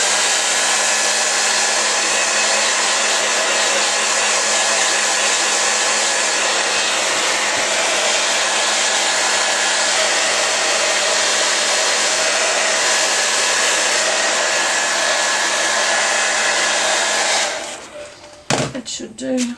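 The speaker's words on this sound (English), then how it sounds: "I'll just quickly get the hairdryer and blow that dry." A hair dryer runs steadily at close range, blowing over thin wet paint on an envelope journal cover, a loud continuous whoosh with a faint hum, then cuts off with a few clattering handling noises at the end.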